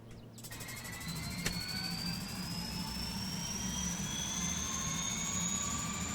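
A Bell 407 helicopter turbine engine starting up in the X-Plane 12 flight simulator, a steady whine rising in pitch over a low rumble, heard alone with no talk.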